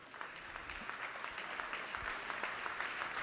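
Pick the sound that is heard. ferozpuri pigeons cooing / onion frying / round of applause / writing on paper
round of applause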